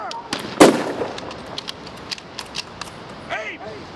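A rifle volley at a veterans memorial bridge commemoration, heard as one sharp, loud crack followed by fainter scattered reports and echoes, with shouted commands around it.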